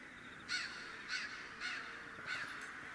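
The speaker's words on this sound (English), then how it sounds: "All I hear is Noggins the ravens" A raven caws four times at an even pace, harsh hoarse calls fairly distant over a quiet outdoor background.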